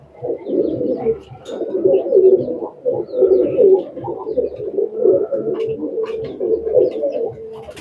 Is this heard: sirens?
no